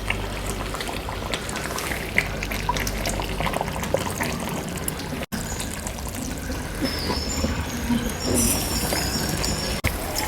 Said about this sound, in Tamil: நான் கொஞ்சம் தண்ணி ஊற்ற போகிறேன் இது கூட